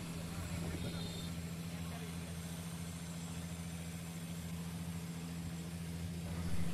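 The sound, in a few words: long-tail boat engine running on Krabi island trip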